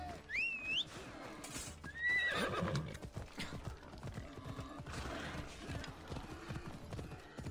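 A horse in the Assassin's Creed Odyssey game whinnies twice in high, shrill neighs while its hooves clip-clop steadily underneath, close and fairly loud throughout.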